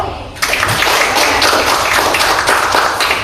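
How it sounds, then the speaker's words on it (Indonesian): Classroom applause for a student group, a steady wash of many hands clapping that starts abruptly and carries on evenly throughout. "Silakan kita kasih aplaus dulu."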